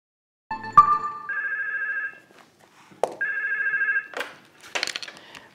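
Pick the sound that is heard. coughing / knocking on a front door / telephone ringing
telephone ringing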